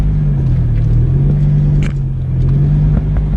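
A lowered Mercedes-Benz W123 diesel car on an icy lot gives a steady, loud low engine drone that holds evenly throughout, with a faint brief rattle partway through and no talking.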